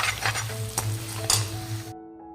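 Tadka tempering sizzles and crackles in a pan while being stirred, a loud steady frying hiss with scraping stir strokes, then cutting off abruptly into silence.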